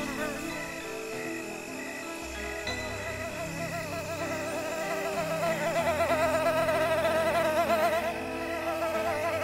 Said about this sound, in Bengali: চোখ বুজতে যাবে অমনি কানের চারপাশে বেজে উঠল মশার গুনগুন